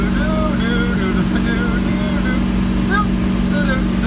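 A bus engine labours up a hill in first gear, a steady low drone that fills the whole stretch while someone talks over it.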